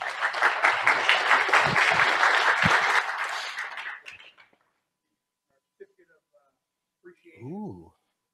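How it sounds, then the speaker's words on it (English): A crowd bursts into loud applause that carries on for about four seconds and then dies away to silence, followed by a brief voice. "let's get a great round of applause"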